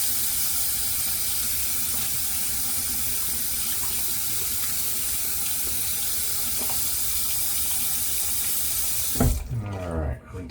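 A tap runs steadily into a sink while a stick is rinsed under it, a continuous close splashing hiss that stops abruptly near the end with a few final drips and clatters.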